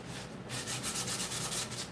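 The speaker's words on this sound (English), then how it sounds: "This one just needs a little light sanding with this sandpaper here" A wooden pizza peel gets light hand sanding with sandpaper, a close, steady series of raspy back-and-forth rubbing strokes in an even rhythm, alone without talk.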